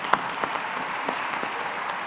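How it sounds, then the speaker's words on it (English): Applause from an audience at a church gathering, a steady wash of many hands clapping at moderate level with a few sharper claps standing out, continuing without talk. "I just wanted to applaud the women that are raising men."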